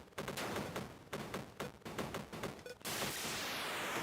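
Missile fire in Desert Strike on an Atari Lynx, a fast burst of repeated sharp shots in quick clusters, cutting off into a steady rushing hiss.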